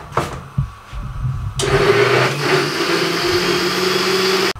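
An electric kitchen grinder whirs steadily after a few soft clatters, blending yogurt into a smooth mix for Lahori beef paya; the motor starts abruptly and runs at an even, fairly loud drone until it cuts off at the end.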